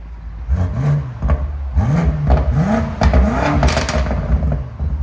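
A BMW M5 Competition twin-turbo V8 in full sport mode is blipped repeatedly, giving four or five quick rising revs over a loud, close idle rumble.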